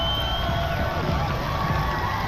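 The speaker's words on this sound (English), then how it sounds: "Listen to the crowds here screaming and hollering and hooting, cheering us on." Spectators lining the Boston Marathon route screaming, hollering and cheering on the runners, a dense continuous crowd roar with scattered whoops, heard close and loud.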